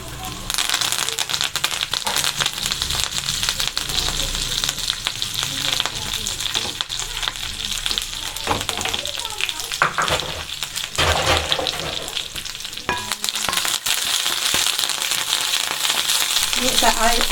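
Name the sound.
curry leaves frying in hot oil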